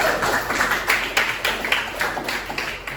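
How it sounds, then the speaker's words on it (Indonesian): A small classroom group claps for the first presenting group during a teaching performance session, giving a few uneven, moderately loud bursts of hand claps that rise and fall over a few seconds. "beri tepuk tangan untuk kelompok 1"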